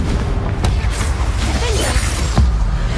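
A Confringo blasting spell cast in Hogwarts Legacy: a fiery burst with a sharp crack and a low thump among dense combat effects, another impact near the end, over a steady background of game noise.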